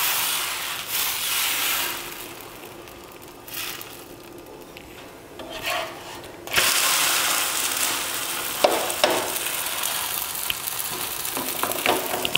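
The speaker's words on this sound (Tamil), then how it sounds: "சூப்பராக தோசை ஊற்றியாச்சு" Wheat dosa batter cooking on a hot griddle gives a steady close sizzle with scraping and rubbing of a spatula, quieter at first and then louder after a sharp shift midway.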